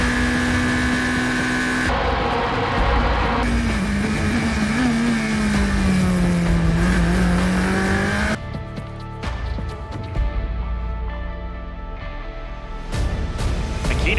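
Open-wheel race cars scream past on a circuit, engines wailing at high revs and changing pitch as they brake and shift, loud and close, with a second car's note cutting in and fading away.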